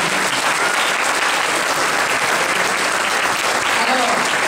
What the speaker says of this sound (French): je vous demande encore de les applaudir